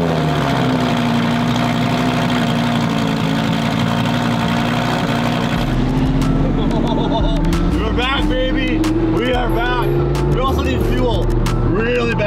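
A powerful Bugatti sports car engine idles with a deep, steady hum, then revs in sharp, repeated bursts, loud and close, with voices talking over it.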